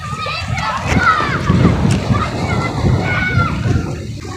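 Strong waves slosh and splash against the shore or a boat while people fish, with repeated watery surges under continuous nearby talk, including a voice.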